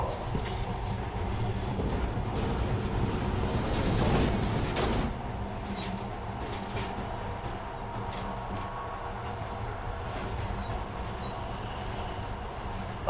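A train rolls into a metro station in the video game Metro Last Light, producing a loud, steady rumble and rattle of wheels and carriages that swells and then settles into a continuous drone.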